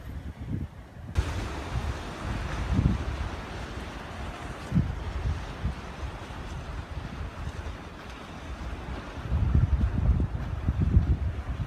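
Waves roll and crash on the shore at Tambobong, Dasol, with steady wind noise buffeting the microphone, surges swelling and fading at intervals.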